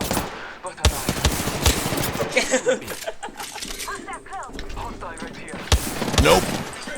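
Rapid automatic gunfire rattles in bursts during an Apex Legends match, with sharp single shots and sustained volleys mixed with excited voices talking over the action.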